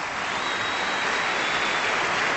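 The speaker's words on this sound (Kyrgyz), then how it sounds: "Ата-энелер үчүн бир дүркүрөтө кол чабып койбойлубу?" Applause from a concert audience honouring the singer's parents at a solo concert, a dense, steady roar of clapping throughout.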